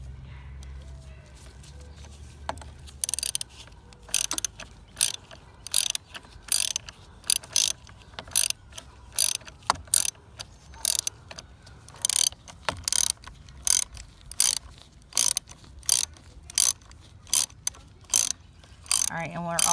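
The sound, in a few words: ratchet clicks while tightening car battery terminal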